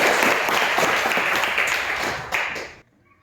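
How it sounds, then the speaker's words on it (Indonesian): Children in a Christian religion class clap their hands together in a dense, steady burst of applause that fills the room for nearly three seconds, then stops abruptly. "Tepuk tangan buat Tuhan Yesus."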